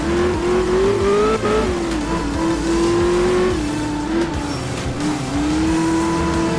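A rally car sliding on gravel in Art of Rally, its engine droning loudly and steadily with pitch rising and falling as it revs, with gritty tire and gravel noise underneath and no voices.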